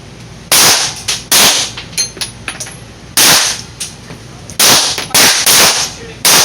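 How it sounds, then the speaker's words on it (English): Sharp handgun shots ring out during firearm training, loud and close in irregular clusters of single reports and quick doubles, each cracking then fading, with quiet pauses between. "Shooting."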